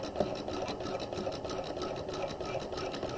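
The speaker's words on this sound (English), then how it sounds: "We're going to back stitch, and then we're going to sew down the dart leg." A sewing machine runs steadily and continuously, stitching down a dart leg with a regular stitch length, a close, even mechanical whir with no pauses and no talk.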